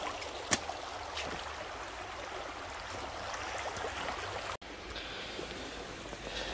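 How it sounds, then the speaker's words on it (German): A stream in Thuringia flows with a steady, broadband rushing and trickling wash that fills the whole clip, close and continuous, with a sharp knock near the start and a brief dropout later. "habe ich jetzt hier schon wieder einen neuen Bach"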